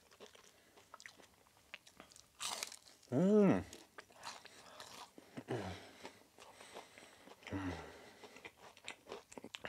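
Someone bites into crispy KFC chicken tenders in France, producing quiet crunching and chewing up close, with a louder burst partway through and soft talking around it.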